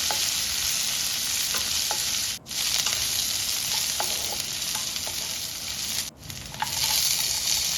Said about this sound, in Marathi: लाल मिरची आणि कांदा छान परतून घ्यायचा